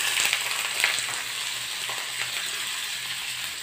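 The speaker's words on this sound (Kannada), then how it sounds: "ಈ ಥರ ಫ್ರೈ ಮಾಡ್ಕೋಬೇಕು ಈರುಳ್ಳಿನ" Onions with curry leaves fry in a pan for brinjal gojju, making a soft, steady sizzle with a few faint stirring touches.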